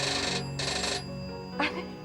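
Telephone ringing indoors, two quick electronic rings in succession, moderately loud beneath a background music bed, with a short burst of talk near the end.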